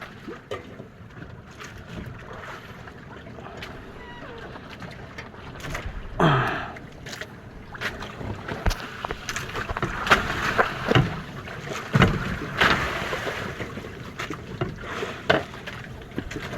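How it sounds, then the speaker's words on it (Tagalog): Strong northeast monsoon wind buffets the microphone in gusty, rumbling bursts, with occasional knocks and rustles, likely from a boat, mixed in. "Pangit ngayon ng amihan."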